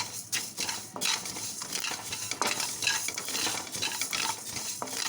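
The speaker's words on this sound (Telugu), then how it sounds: "ధనియాలు వేయించుకోవాలి లైట్గా బ్రౌన్ కలర్ వచ్చే వరకు వేయించాలి" Coriander seeds being dry-roasted in a hot pan for homemade chicken pickle, with a steady crackling sizzle and frequent scraping stirs of a utensil against the pan, close and continuous with no talking.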